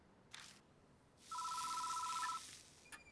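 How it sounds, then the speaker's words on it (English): A telephone rings in the horror game Deathmark, a steady electronic tone about a second long after a couple of brief noises, fairly quiet with no voices. "The phone is ringing."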